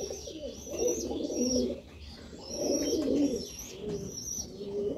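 Domestic pigeons coo softly nearby in a small zoo enclosure, with a few rolling phrases repeating in a slow rhythm and faint chirps over a quiet background.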